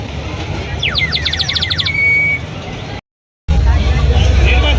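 At a Konkan festival stall, a clay whistle soaked in water gives a run of rapid, warbling bird-like trills followed by a short held note, loud over the crowd and traffic noise, then a brief cut to silence.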